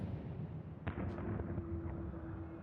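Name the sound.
cannon fire in Final Fantasy XIV video game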